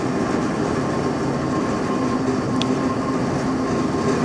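A Marvel tilt-frame band saw with a 5 horsepower motor and variable blade speed runs its blade, giving a steady, dense mechanical whir with a constant hum throughout, close and fairly loud.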